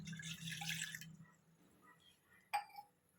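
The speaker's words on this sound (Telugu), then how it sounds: "వాటర్ పోస్తున్నాను." A glass of water poured into a pot set on a stove: about a second of steady splashing pour, then quiet with a low hum, a sharp clink and a brief splash near the end.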